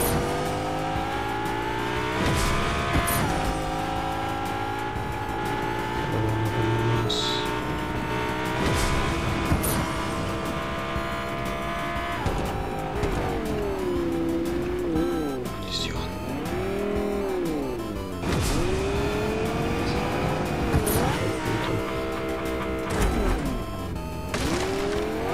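A car speeds along in Fortnite Chapter 5, its engine droning and rising and falling in pitch with occasional tire squeals, steady throughout and heard with a person talking over it.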